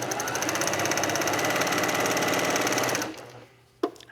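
A sewing machine stitches a quilt top with a tight stitch length, running in a fast, steady mechanical drone at close range for about three seconds, then stopping, followed by a single sharp click.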